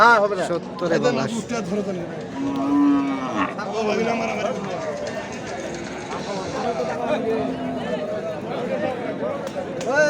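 Several cattle, including Sahiwal and Indian bullocks, moo loudly at a livestock market, overlapping with people talking and chattering nearby in a busy outdoor crowd.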